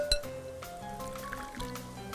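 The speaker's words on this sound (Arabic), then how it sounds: "وهناخد عليها ايه شويه ميه ساقعه عاديه خالص، ميه من الحنفيه" Cold tap water poured into a pot while making Saidi kishk, with light clinks of the vessel at the start and a soft, fairly quiet trickle and gurgle of liquid over about two seconds.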